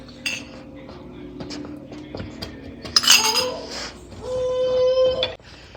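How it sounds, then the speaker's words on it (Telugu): A spoon stirs pineapple kesari in a metal pan, producing scattered scraping and clinking of utensil against pan, with a brief louder clatter in the middle. "ఉండలు కట్టకుండా ఉండాలంటే తిప్పుకుంటూనే ఉండాలి కంటిన్యూస్గా"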